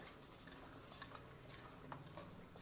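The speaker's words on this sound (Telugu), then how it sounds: "ఇప్పుడు కొంచెం మైదా పిండి వేసుకుంటూ కలపాలి" Flour being stirred into eggless chocolate cake batter in a bowl, with steady soft scraping and stirring and a few light clinks of utensil on the dish, close and quiet, no talking.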